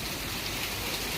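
Rain falls in a dense, even hiss, steady and close for a brief moment.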